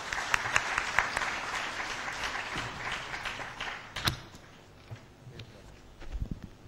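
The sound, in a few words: conference audience applause for speaker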